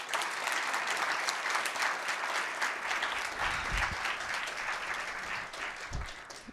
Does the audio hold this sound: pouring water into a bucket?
no